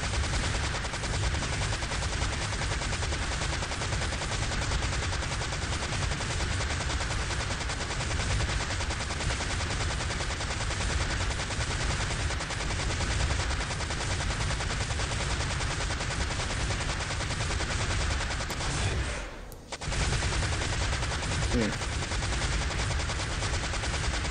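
Sustained dense automatic gunfire in Unreal II XMP, a steady loud barrage of rapid shots striking a target, continuous for most of the stretch with one brief gap near the end.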